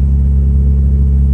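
A cold Mitsubishi Evo engine idling high with a rough idle, a loud, steady low rumble heard up close with no other sounds.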